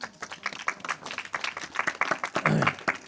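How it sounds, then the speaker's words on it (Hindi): A church congregation claps for Jesus in scattered, uneven applause that rises near the end, with a voice briefly heard through it. "यीशु के लिए ताली लगा दो जोर से"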